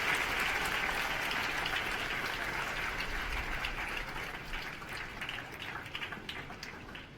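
Sustained applause from a large audience at a Teachers Day celebration at a university in Haridwar, a dense patter of clapping that gradually thins and fades toward the end.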